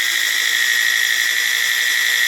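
A G0704 milling machine fitted with faster metal gears runs at high speed, giving a loud, steady mechanical whine with bright tonal overtones, unbroken and close, with no talk.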